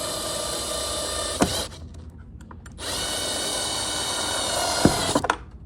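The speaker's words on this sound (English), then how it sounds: "That's why this drill being so strong is very helpful for me." A strong power drill whirs loudly in two long bursts separated by a short pause while securing a shade sail, with sharp clicks and knocks at the start and end of each run.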